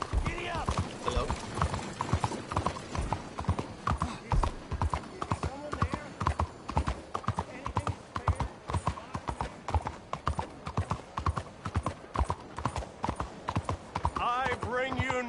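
Horse hooves clip-clopping in Red Dead Redemption 2, a brisk, steady rhythmic trot of close, distinct hoofbeats, with a voice speaking over parts of it and a whinny near the end.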